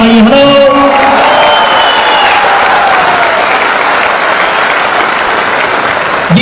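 Loud, dense applause fills a large seminar hall as the audience claps continuously for over six seconds, with a brief voice and tones at the very start.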